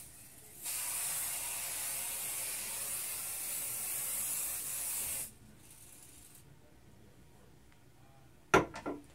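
Aerosol hairspray sprays in one steady, close, loud hiss lasting about four and a half seconds. Quiet room tone follows, with a brief knock near the end.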